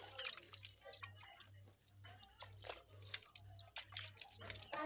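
Chilli pepper seedlings on a garden bed being watered, a faint patter and trickle of water splashing onto soil with a low steady hum underneath.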